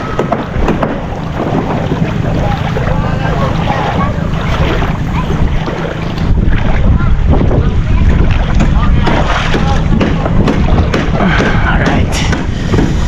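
A boat ride near Little Boracay in Calatagan, Batangas, with a constant loud rush of wind and water against the hull, steady engine drone throughout and voices faintly talking under the noise.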